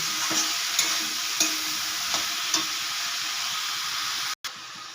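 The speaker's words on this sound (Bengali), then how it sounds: "এর মধ্যে দিয়ে দেব ভেজে রাখা আলু। আবারও আমি এটাকে কষাতে থাকবো।" Fried potatoes are stir-fried with cabbage in a pan for a fish-head and cabbage curry, giving a steady loud sizzle with periodic scraping strokes of the spatula and a brief break near the end.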